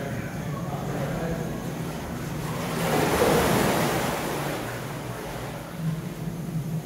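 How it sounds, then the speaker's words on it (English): Sloshing water from a wave exhibit at the Shedd Aquarium in Chicago, a steady broadband wash that swells in the middle and then eases, with indoor room noise. "They like the waves, dude."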